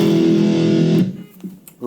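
Super crunch distortion on an electric guitar through an amp rings out as a loud, saturated chord for about a second, then cuts to quiet before a short, fainter strum returns at the end.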